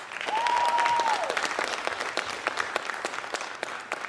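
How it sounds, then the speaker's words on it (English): A crowd at a spoken word performance breaks into sustained applause, dense, even clapping that stays strong throughout, with a whistle rising above it early on. "let's give him another round of applause"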